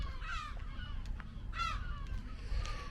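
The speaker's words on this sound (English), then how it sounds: "God, it's so noisy, these seagulls." Gulls calling on the seafront at Great Yarmouth, a few loud harsh cries breaking out over steady outdoor background noise.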